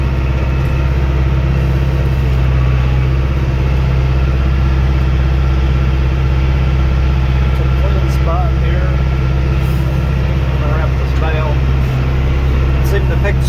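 A Case 8420 tractor engine hums steadily and loudly up close while working a Hesston 830 round baler in a hay field, a constant droning rumble throughout with faint intermittent clinks.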